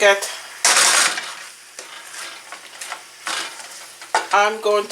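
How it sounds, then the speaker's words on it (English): Spinach pasta with a bouillon cube sizzles in a pan while a utensil stirs and scrapes it in uneven bursts, close by, with someone talking over parts of it. "I'm going to stir this around"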